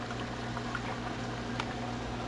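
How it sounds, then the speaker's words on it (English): Water boils steadily in a pot on the stove for cooking wieners, a constant dense bubbling hiss with no talk. "we're boiling nicely."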